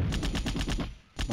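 Rapid automatic AK-47 fire from the Mini Militia mobile game, a steady burst of about eight shots, a brief pause, then another shot starting.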